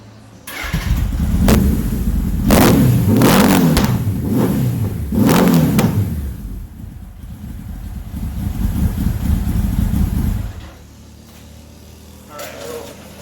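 A 1980 Honda CB900 motorcycle engine starts up and revs loudly several times in sharp bursts, then settles into a steady idle before cutting off.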